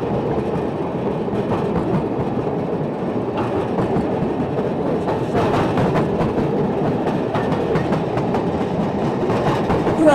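A Ffestiniog Railway gravity train wagon rolls and vibrates on the rails with a constant loud rumble and rattle. Faint clicks and clacks from the wheels run through the ride without a break.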